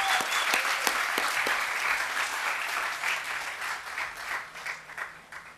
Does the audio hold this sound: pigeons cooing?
no